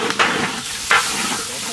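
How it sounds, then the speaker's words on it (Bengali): Spice paste for a Bangladeshi chicken biryani is fried down in a pan, a close sizzle punctuated by two quick stirring scrapes, with no one talking. "হ্যাঁ মশলাটা ভুনা হয়ে গেছে"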